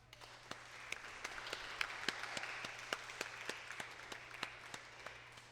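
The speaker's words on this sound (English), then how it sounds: "let's have one more round of applause" Quiet audience applause at a graduation ceremony, a soft wash of many hands with a few sharper claps standing out, steady for several seconds and fairly distant.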